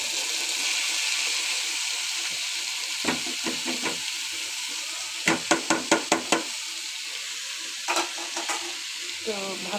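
Chopped onion and green chili sauté in a pan with cumin and turmeric powder, under a steady sizzle. A spoon scrapes and knocks against the pan in bursts, first scattered, then in a quick run of five or six strikes.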